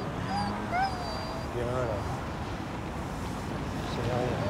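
A frightened, unwell dog whimpers in high thin whines and short yips, several close cries spread across the span over a steady background hum.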